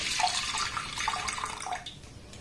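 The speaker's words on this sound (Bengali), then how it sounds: "কড়াটাকে গরম করে নিয়ে এর মধ্যে দিয়ে দেবো ঘন করে জাল দিয়ে না দুধ" Thickened milk is poured into a hot wok on a gas stove, giving a steady liquid splashing and trickling that is close and fairly loud, with no voices.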